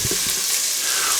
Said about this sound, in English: I'm going to start adding oxtails and browning them a little.